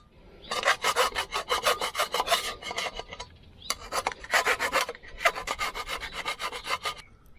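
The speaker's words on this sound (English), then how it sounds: "After drilling, we use a file to remove the excess metal burrs." A metal file rasps in quick, rhythmic strokes removing burrs from drilled aluminum, three bursts of steady back-and-forth scraping separated by short pauses, close and fairly loud.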